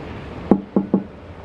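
Knuckles rap on the door of an LG InsideView smart fridge: one sharp knock, then a quick pair of close, hollow taps in a quiet room.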